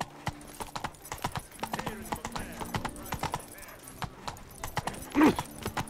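Hooves of Roach, Geralt's horse in The Witcher 3: Wild Hunt, drum in a quick, rhythmic clip-clop gallop, with a brief louder snort or whinny near the end.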